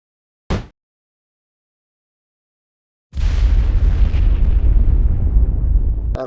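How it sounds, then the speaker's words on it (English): Explosion sound effect from the puzzle-platformer game Braid: a short sharp pop, then silence, then a long loud booming rumble that roars for about three seconds before cutting off, with no talk. "that's a little bit explosion-y"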